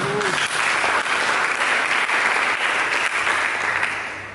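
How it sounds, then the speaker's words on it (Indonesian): A church congregation bursts into sustained applause, a loud, even wash of many hands clapping that continues throughout and eases slightly at the end. "Mari kita berikan tepuk tangan."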